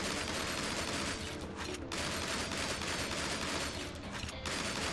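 Dense, continuous rapid gunfire from shooting in the video game Shank, a loud unbroken stream of shots and effects filling the whole stretch without talk.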